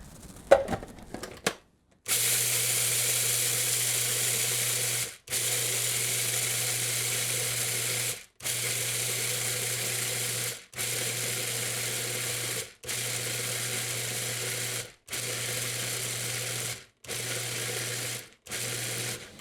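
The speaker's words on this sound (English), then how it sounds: "So I'm going to put this in my Cuisinart. It's going to make a loud noise." A Cuisinart food processor chops chocolate chips in a series of loud pulses, a steady buzzing whir that starts and stops about eight times with brief gaps between bursts.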